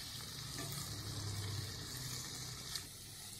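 Potato, pea and cabbage sabzi being stirred and mixed in a pan, giving a steady close sizzle with soft scraping and shuffling of the vegetables, no voices.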